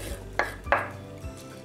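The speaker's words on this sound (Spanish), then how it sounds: "Voy a poner las papas." Potatoes with chili going into a pan: two sharp clatters of food and utensil striking the pan in quick succession, then a softer knock, close and brief.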